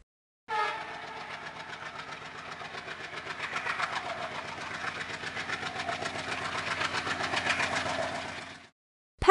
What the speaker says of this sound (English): Diesel locomotive.